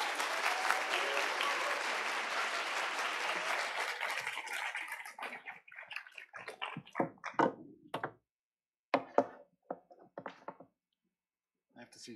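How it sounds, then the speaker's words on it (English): Audience applause at the Open Repositories conference afternoon session, a full round of clapping that thins out after a few seconds into scattered claps and thumps, with some talk in the room. "Can we have another round of applause, please?"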